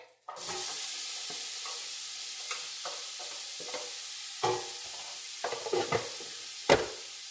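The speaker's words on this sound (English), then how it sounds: "I'm going to go ahead and dump in the onions" Onions for lentil soup sizzle in a pot with a soft, steady hiss, broken by occasional clinks and scrapes of stirring, heard quietly and alone.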